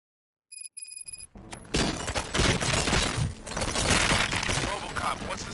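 Gunfire and crashing action in the video game Robocop Rogue City, loud and dense after a short electronic beeping intro, a continuous barrage of shots and impacts filling most of the stretch.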